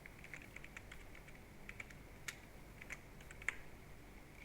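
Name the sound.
typing on a computer keyboard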